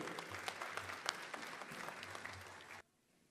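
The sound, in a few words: applause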